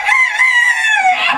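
A rooster crows once, loud and close, in a single drawn-out call with a bright, wavering tone that dips slightly near the end. No one talks over it.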